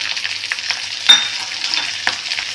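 Chopped onion and green chillies frying in a pan of hot oil with cumin for a Marathi onion thecha: a steady bright sizzle with a couple of brief stirring clinks.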